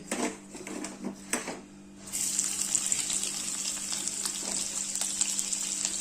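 Garlic dropped into hot oil in a home kitchen pan gives a sudden loud, steady hiss of frying that starts after a couple of seconds of quieter clatter and keeps sizzling evenly to the end.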